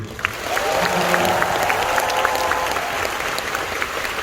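A concert audience at an encore show in Seoul bursts into sustained, loud applause that swells and holds steady, filling the hall with dense clapping.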